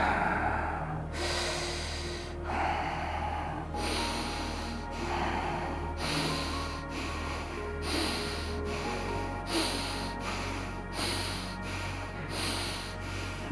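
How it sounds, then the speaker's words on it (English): Slow, deep breaths in and out during an abdominal massage for digestion, heard as long drawn airy inhales and exhales, close and steady, over a low continuous background hum with no talking. "You inhale."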